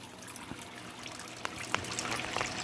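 Water trickling in a waterfall aquarium fish tank, a steady soft splashing wash with scattered small drips and plinks, fairly close and continuous, with no talk.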